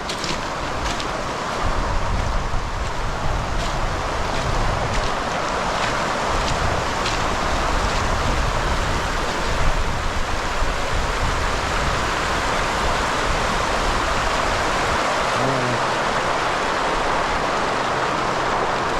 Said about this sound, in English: Yeah, the creek's still going.